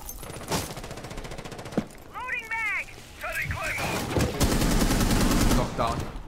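Rapid bursts of gunfire in a tense Rainbow Six Siege match, sharp repeated shots scattered across the clip with game sound effects mixed in, while players talk over the action.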